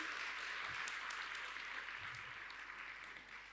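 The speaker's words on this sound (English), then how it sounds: "why don't we have one more massive round of applause for all incredible teams" Applause from an audience for student science teams at a camp pitching event, a steady, fairly faint wash of clapping filling the whole stretch and tapering slightly at the end.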